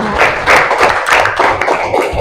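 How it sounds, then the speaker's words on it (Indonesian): Sixth-grade classroom clapping for a student, loud nearby hands beating in a rough, slightly rhythmic pattern with a few thumps, lasting around two seconds with no talking. "tepuk tangan buat Arya"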